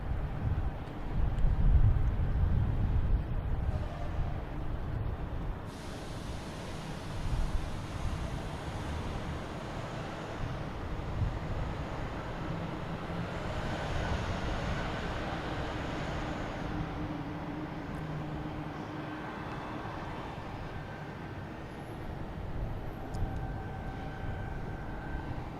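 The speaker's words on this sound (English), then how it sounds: "we have a Delta, flight 332, an A321 Neo heading to Seattle" A Delta Airbus A321neo jet airliner at Boston Logan Airport, a broad rumbling roar that stays steady and fairly distant across the clip, with wind buffeting the microphone.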